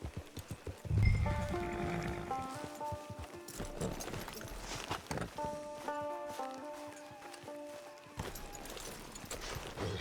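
Horse hooves clip-clop in Red Dead Redemption 2, a steady walking rhythm in a Wild West camp with a brief neigh near the start, set over layered game music.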